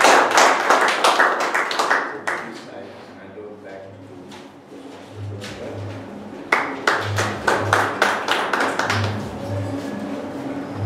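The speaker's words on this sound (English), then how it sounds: "Please give your round of applause." A small meeting audience claps for a Toastmasters-style session, giving scattered rounds of hand claps in two bursts with a speaking voice in between.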